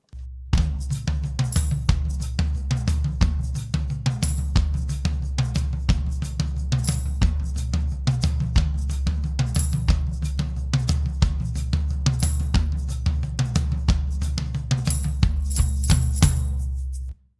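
Maracas and tambourine percussion over a drum kit, a brisk steady groove of crisp shaker ticks and jingles above a thumping low beat, loud and continuous for the whole stretch with no voices.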